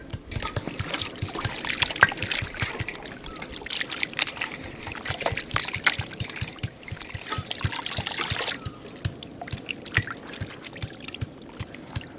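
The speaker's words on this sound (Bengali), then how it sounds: "এইদিকে আমি খাসির মাংসটাকে সুন্দরভাবে ধুয়ে নিই" Mutton pieces being washed in water outdoors in a forest setting, with trickling, splashing and sloshing of liquid and handling sounds, moderately close, with faint background noise.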